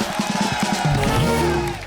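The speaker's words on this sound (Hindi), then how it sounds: "डॉक्टर साहब के लिए एक बार जोरदार तालियां हो जाए।" Studio audience at a Hindi comedy talk show cheers and whoops to welcome a guest poet, a dense, continuous crowd roar with rising shouts, heard up close with no talking over it.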